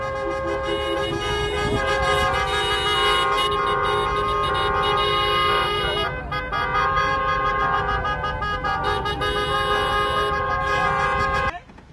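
Many vehicle horns blare at once at an anti-Trudeau protest in a loud, sustained chorus of overlapping honks and toots, continuing for several seconds before cutting off.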